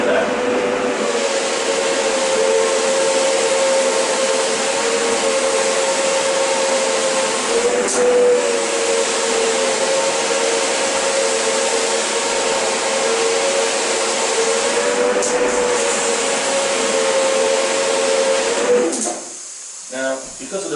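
A Duplex 340/420 cylindrical-brush floor cleaning machine runs with a steady, loud droning hum and hiss for about nineteen seconds, then cuts out abruptly near the end.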